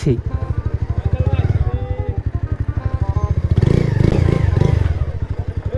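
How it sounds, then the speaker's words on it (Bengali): A modified motorcycle engine idles close by with a rapid, lumpy pulse, rising into a rougher, louder rev partway through, while voices talk over it. "মানে একটা মড করা বাইক"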